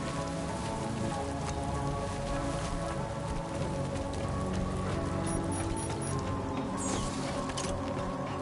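Steady rain in the video game Death Stranding 2, a dense, even patter of drops on surfaces that carries on evenly throughout, with no talking.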